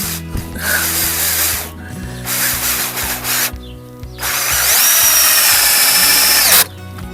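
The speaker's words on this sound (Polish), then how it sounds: "te wkręty ciesielskie to naprawdę idą jak złoto" Power drill driving carpentry screws into wood while building a rabbit cage frame, with several close, loud whirring bursts separated by pauses, the last one longest, and no talking.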